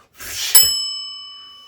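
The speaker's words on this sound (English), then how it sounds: "let me bring that bell in" A single bright bell ding rings out after a short whoosh, its metallic tone lingering and fading slowly.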